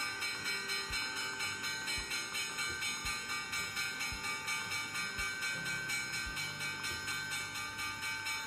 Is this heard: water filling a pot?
no